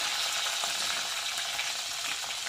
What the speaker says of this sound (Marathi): कढईमध्ये तेल तापवायला ठेवलं आहे त्यामध्ये आपण टाकणार आहोत बारीक ठेचलेलं लसूण जिरे मोहरी आणि कढीपत्ता